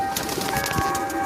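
Punjabi Malwai pigeons give a short, soft cooing sound over a busy background of bird noise, lasting only about a second.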